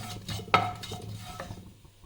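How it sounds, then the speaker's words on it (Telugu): Cumin seeds sizzle in hot oil in a pan for an Andhra-style ridge gourd chutney, a quiet frying hiss broken by one sharp clink of a utensil against the pan. "జీలకర్ర, జీరా యాడ్ చేసుకొని ఫ్రై చేసుకోవాలి."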